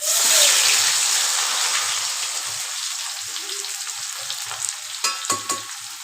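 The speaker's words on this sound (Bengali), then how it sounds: "এর মধ্যে দিয়ে আলুটা আগে ভেজে নেব" New potatoes fry in hot oil for a winter aloo dum, giving a steady, close sizzle throughout with a few soft stirring clinks toward the end.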